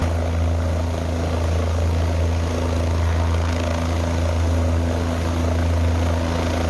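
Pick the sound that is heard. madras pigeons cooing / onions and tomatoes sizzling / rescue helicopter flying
rescue helicopter flying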